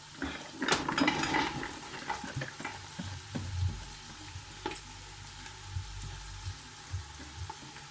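Sliced carrots go into a pan of beef, giving a close sizzle with stirring and scraping clatter, busiest at the start, then a softer ongoing fry with occasional utensil knocks.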